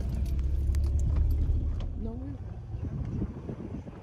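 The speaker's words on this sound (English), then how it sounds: "Can you guys hear the car struggling?" Car engine labouring along a rough off-road track through woodland, a low, heavy rumble with rattling and jangling from the cabin, close and continuous, with a person talking over it.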